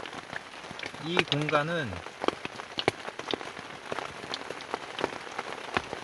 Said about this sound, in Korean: 텐트에 있는데 비가 지금 많이 오고 있습니다